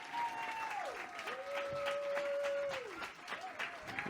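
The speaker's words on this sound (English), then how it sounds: "So give them all a round of applause," Audience applause for performers at a talent show semi-final, a steady, dense clapping wash filling the whole stretch, with a sustained tonal note gliding and holding beneath it.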